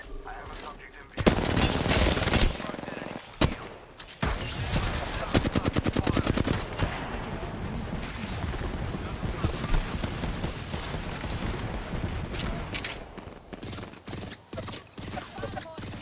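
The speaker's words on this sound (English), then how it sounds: "Boss shooting at me" Gunfire from a boss enemy in a video game, rapid loud bursts and machine-gun volleys piling into a dense, continuous barrage with brief gaps and scattered voice-chat talk underneath.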